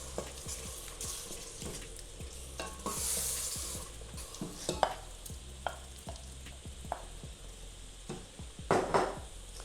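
Chopped tomatoes cooking in tomato paste in a pan for a Kenyan grilled chicken dish, a low sizzle under repeated scraping and clinking of a spoon as the mix is stirred, with a brief hiss partway through.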